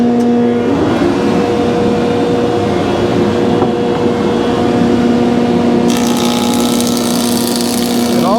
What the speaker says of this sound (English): we're going to go ahead and put a straight edge on 2 boards